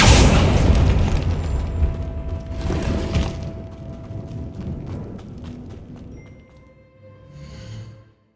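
A Confringo spell explosion in the video game Hogwarts Legacy bursts with a loud, deep boom up front, then rumbles and crackles away into fading debris and ambient tones, followed by a softer swell near the end.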